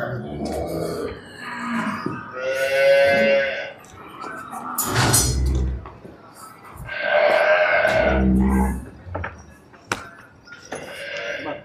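Cows at a cattle sale give a couple of deep, drawn-out moos among nearby people talking.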